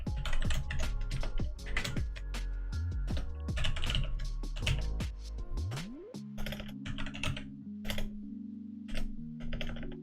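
Fingers type on a computer keyboard in quick, uneven bursts of close, crisp key clicks with short pauses between runs, alongside faint electronic tones and no voices.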